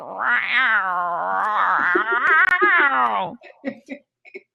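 A human voice imitates a cat yowling, a long wavering caterwaul held for about three seconds, close and loud, followed by a few short breathy sounds.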